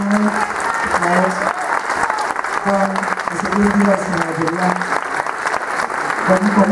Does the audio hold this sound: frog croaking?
no